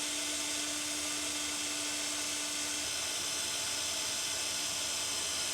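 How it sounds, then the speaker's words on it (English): An electric drill boring through a pole hums at a steady high pitch throughout, its tone shifting slightly partway through, quiet and uninterrupted by speech. "I'm just using the drill, the weight of the drill."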